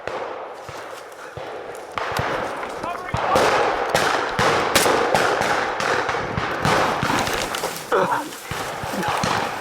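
Gunfire at a WWII battle reenactment at Heartbreak Crossroads: dense, continuous crackling bursts of shots and loud popping close by, with people shouting over the firing.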